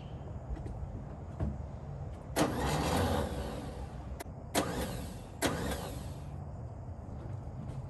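A 1955 Chevy starter motor spins without engaging the engine, heard as three short whirring bursts of cranking, each about a second long, separated by quiet pauses.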